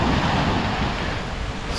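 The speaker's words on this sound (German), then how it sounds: "aber auch die Wellen, die sind so laut." Loud ocean surf at night beside a solo beach campsite, a continuous roar of waves crashing close by with gusty wind noise and no voices.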